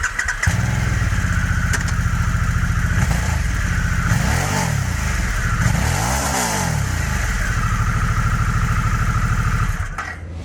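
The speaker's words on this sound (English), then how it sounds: "Let's have a listen to the exhaust." A 2022 Harley-Davidson Sportster S motorcycle starts up and settles into a loud, lumpy idle with a deep throbbing exhaust, blipped a couple of times before cutting off.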